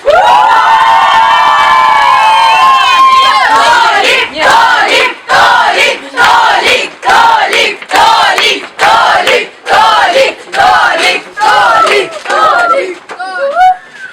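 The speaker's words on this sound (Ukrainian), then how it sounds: "де зібрався натовп його прихильників" A loud crowd of supporters outside a candidate's house, made up of children at a summer camp, cheers and whoops, then chants in rhythmic shouted bursts that repeat steadily and close to the listener.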